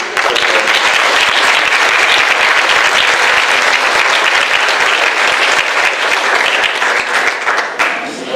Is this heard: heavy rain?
no